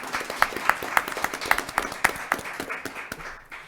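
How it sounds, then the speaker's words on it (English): Audience applause at a ward education candidate forum, a modest scattering of claps with a few sharp individual hits, fairly quiet and thinning out toward the end. "And maybe a little applause?"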